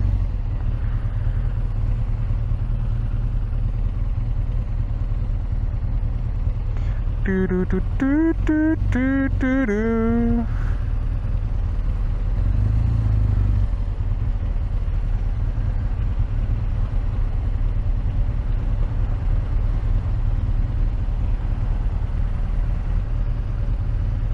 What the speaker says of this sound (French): il y a les escadrons de motocyclistes aussi